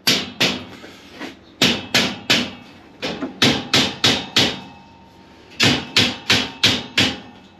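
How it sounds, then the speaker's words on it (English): A small hammer strikes a Fleximounts storage rack shelf into place in sharp, ringing metallic blows, delivered in quick bursts of three to five hits separated by short pauses, close and loud. "Just going to use the little hammer that came with it there to hammer it down."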